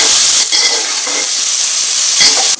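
Carrot and potato with spices and salt fry loudly in a pan for a milk-and-curd pulao, a dense continuous hiss with a few stirring scrapes and no talk.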